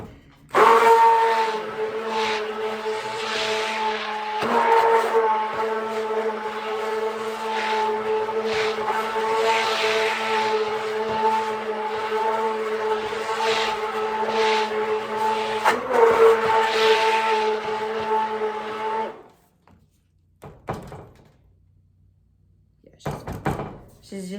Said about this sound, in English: when the stick blender goes through separating the pumice